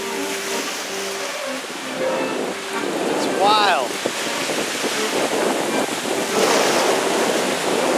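Waves wash steadily onto a Great Lakes beach in Michigan, a continuous surf roar mixed with wind buffeting the microphone, with a brief bird-like squeak partway through.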